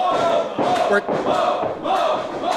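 A wrestling crowd cheers and chants in pulsing rhythmic waves, loud and close, with several surges of massed voices repeating about every half second.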